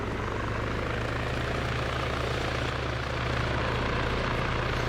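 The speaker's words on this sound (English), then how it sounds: "Helicopter time." A helicopter in a video game gives a steady, loud, close rotor drone with a broad roar and a low pulsing thrum that holds unchanged throughout.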